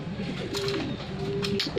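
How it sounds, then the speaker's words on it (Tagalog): Pigeons coo on a roof in soft, low, repeated calls over a faint background hum, with a few light rustles and clicks. "pinakawalan na rin natin yung dalawang kalapati natin doon yung magnanay"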